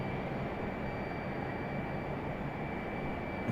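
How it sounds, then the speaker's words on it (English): An Airbus A321 touches down on the runway, a faint, distant, steady broadband engine roar with a sustained high whine running unbroken throughout, no voices. "Nice touchdown for the A321."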